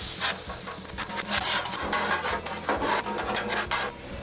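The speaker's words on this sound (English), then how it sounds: "Let's just scrape this down real quick" A metal scraper drags across a hot Blackstone flat-top griddle after cooking luncheon meat, giving repeated rasping strokes that run steadily and loudly, close by, for several seconds with no talking.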